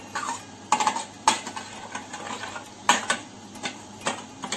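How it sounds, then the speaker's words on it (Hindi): Sugar cooked into caramel in a pan for Bengali chamcham, with a spoon stirring and knocking against the pan in irregular sharp clacks over a faint sizzle, and no voice. "अब मैं इसको थोड़ा चीनी का कैरेमल बना रही हूँ"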